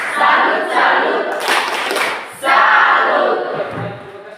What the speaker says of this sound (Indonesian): tepuk salut untuk kita semua dulu. Tepuk salut.